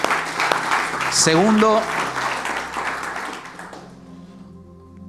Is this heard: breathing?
no